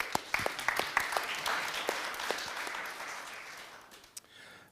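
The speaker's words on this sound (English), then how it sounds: "So please, a round of applause for Christopher." Audience applause for a conference speaker at a talk on war in the digital age, with dense clapping from a crowd that swells briefly, stays steady and then fades toward the end, with a few sharp claps standing out.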